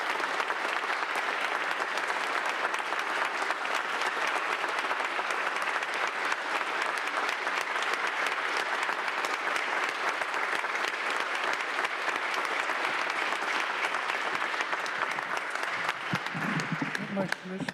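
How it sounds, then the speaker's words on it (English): Sustained applause at a Cleveland city council meeting honoring a longtime city servant, dense steady clapping from the chamber audience that holds evenly for nearly eighteen seconds before easing off. "let's give Tim Wells a round of applause."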